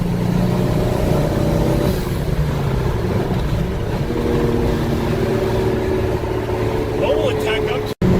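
A car engine revs hard and steadily, a loud, dense roar that holds throughout with slight rises and dips, up close, while people talk over it.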